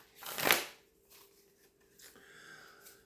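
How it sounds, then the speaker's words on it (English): A single brisk riffle of a card deck, a loud burst followed by softer shuffling and sliding of cards, close by with no talking. "just going to shuffle up the deck"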